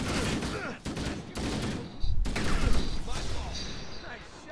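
Gunfire bursts in a Halo video game battle, dense overlapping shots and mechanical clatter running throughout, with a heavier loud stretch midway, mixed with in-game voices and talk.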